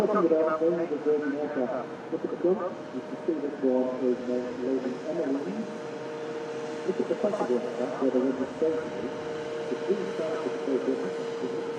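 Airbus A350-1000 airliner after landing at Manchester Airport, a low steady engine drone under continuous talking that dominates throughout.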